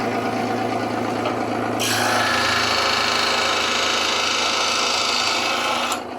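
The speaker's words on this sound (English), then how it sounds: "That's the scroll saw, huh?" A scroll saw with a fine blade runs close by with a fast, buzzing reciprocating chatter. A sharper, brighter cutting rasp joins in partway through and cuts off near the end.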